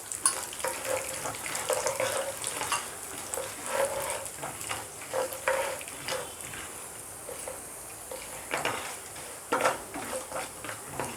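Peanuts fry in tempering oil for mango rice, a close sizzle broken by bursts of scraping and stirring against the pan, uneven in rhythm with brief quieter gaps between stirs.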